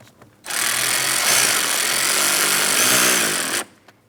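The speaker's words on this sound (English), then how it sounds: "We'll slide this on as far as possible and tighten our clamp." A power tool whirs in one continuous burst of about three seconds while tightening a hose clamp on the radiator air inlet tube of a 2004-2008 Pontiac Grand Prix 3.8L V6, then cuts off.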